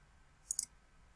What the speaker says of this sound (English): click the Compose button